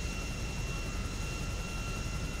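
Airplane engine in Grand Theft Auto 5, a steady, droning hum holding even throughout, moderately loud with no voices.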